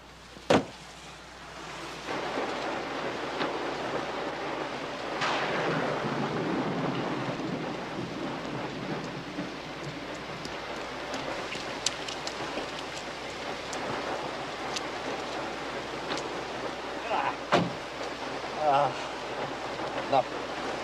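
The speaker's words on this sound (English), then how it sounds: "You don't like driving in heavy rain." Heavy rain pours steadily in a thunderstorm, a broad hiss that persists throughout, with occasional sharp cracks and low rumbles of thunder rising above it.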